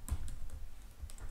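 A computer keyboard being typed on, a short run of close, crisp key clicks in an uneven rhythm with no one speaking.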